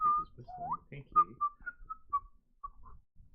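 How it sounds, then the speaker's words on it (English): Faint, thin human whistling in a few short wavering notes and then brief separate tones, heard over quiet low murmurs in an otherwise hushed setting. "You hear his whistling faintly"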